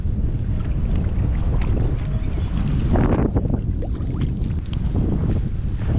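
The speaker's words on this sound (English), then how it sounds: "This wind is brutal." Heavy, steady wind buffeting the microphone while fishing in California, a dense low roar with gusty rumbling throughout and faint splashing water underneath.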